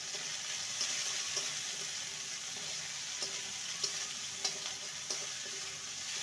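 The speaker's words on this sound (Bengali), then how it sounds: "ভালো করে নেড়ে নেব।" Poha mixed with chopped green chilli and grated ginger is stirred in a pan, making a faint, steady sizzle with soft, regular scraping taps of a spoon, and no talking.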